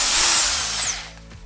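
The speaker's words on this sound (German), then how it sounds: "Jetzt noch eine Bohrmaschine. So, Bohrer rein. Versuchen wir einfach mal ein Loch zu bohren." Power drill boring into a stuck spark plug, a loud high whine that winds up and then slowly fades over a second or so, close and alone.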